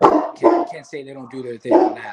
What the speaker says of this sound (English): Barking, or maybe my neighbor's dog is back out there.